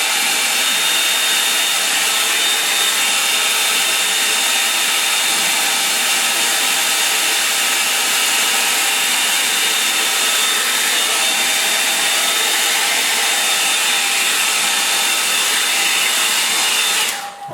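Hair dryer blowing over a wet watercolour winter landscape painting, a loud, close, steady roar holding for over seventeen seconds before shutting off at the end.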